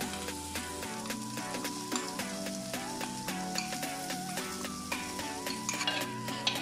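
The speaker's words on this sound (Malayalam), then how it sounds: "അങ്ങനെ മീൻ കറിക്ക് വേണ്ടിയിട്ട് നമ്മുടെ മസാലകളൊക്കെ വരട്ടിയിട്ടുണ്ട്" Masala for fish curry sizzling in a pan while being stirred, with steady frying crackle and repeated scraping strokes of a spoon against the vessel, close and continuous with no talking.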